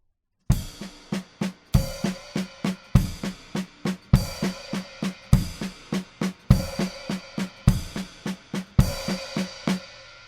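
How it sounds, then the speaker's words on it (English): A drum kit plays a repeating groove, with crashing cymbal accents landing together with the kick drum every bar, loud and close. "So my advice for this exercise is to play our bass drum with our cymbal"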